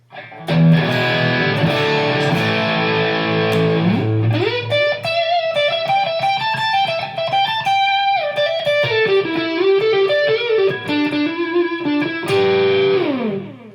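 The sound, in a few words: electric guitar through Marshall JCM800 amp model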